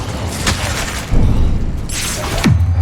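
The Incendio fire spell cast in the Hogwarts Legacy video game comes through as loud whooshing bursts and crackling impacts with low booming thuds, several in quick succession.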